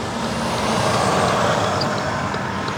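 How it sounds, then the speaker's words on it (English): Steady, loud road traffic noise from vehicles passing during a driving test in Western Australia, a continuous broadband rush without talk. "2 cars coming."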